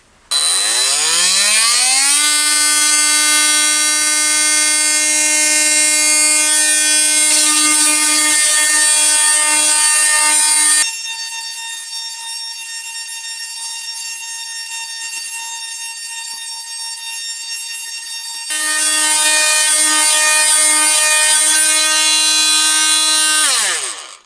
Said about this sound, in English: That's P60 grit on the top setting for 30 seconds on this big piece of pine